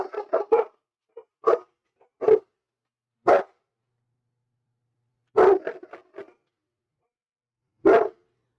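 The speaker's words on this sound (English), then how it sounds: "oh, alert dog" Protective dog barking on alert indoors: loud, sharp single barks and short clusters spaced irregularly with quiet gaps between them, close to the listener.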